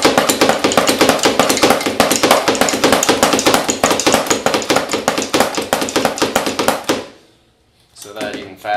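Drum kit playing the fast bass-snare-bass-bass-snare punk beat with a single foot on the kick pedal, a dense rapid stream of loud close hits for about seven seconds before stopping, then a brief resumption.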